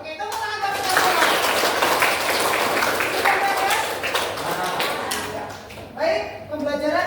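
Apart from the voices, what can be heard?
children clapping hands for classmates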